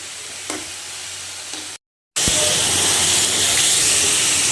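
Shrimp frying in a pan gives off a steady, loud, bright sizzle. A short silent cut breaks it, then the hiss comes back stronger and fuller.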